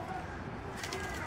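Injured birds kept at Flamingo Gardens, soft pigeon-like cooing close by against outdoor background noise, with a person talking faintly.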